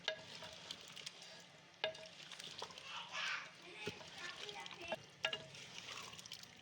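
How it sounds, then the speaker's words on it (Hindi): Potatoes are stirred into meat frying in ghee for aloo gosht, giving a faint sizzle with scraping spoon strokes, while children's voices and talk carry on in the background. "अच्छी तरह से मिक्स करेंगे आलूओं को"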